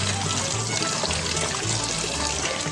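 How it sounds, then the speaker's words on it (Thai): Wild jujubes being rinsed in water, a steady close pouring and sloshing splash of liquid that runs on without a break, no voices. "เราเอาพุทรามาล้างน้ำก่อนนะคะ เพื่อนๆล้างสักสองสามน้ ำ"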